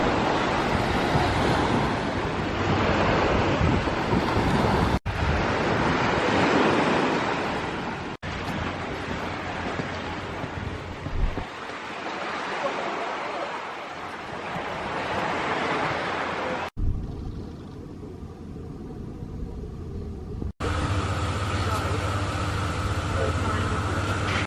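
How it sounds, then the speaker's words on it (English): Surf washes into a small beach cove at Watsons Bay, Sydney, as a steady broadband roar mixed with gusty wind buffeting the microphone, broken by several abrupt cuts. "And the waves look a lot more manageable today."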